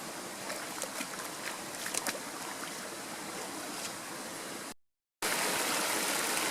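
Stream water pouring through gaps in a rock dam, a steady close gurgling rush with a few brighter splashes, briefly cut to silence near the end.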